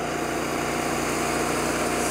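Engine of an Atex hybrid radio-controlled mower running on a steep slope, a steady, loud, high-pitched drone throughout.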